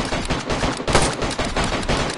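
Dense gunfire crackles in the video game DayZ during a squad military operation, with rapid overlapping shots and bursts under a continuous roar of battle noise.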